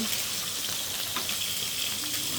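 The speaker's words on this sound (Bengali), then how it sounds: "আদা রসুন পেঁয়াজটা আমি একটু ভালো করে ভেজে নিই তেলে" Ginger, garlic and onion fry in hot oil with a steady, close, bright sizzle that crackles continuously throughout, no voices.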